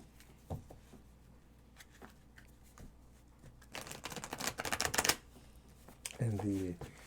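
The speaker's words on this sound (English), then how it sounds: "So we're going to shuffle again." Tarot cards being shuffled in bursts of crisp riffling and patter near the mic, strongest toward the end, with quiet talk around it.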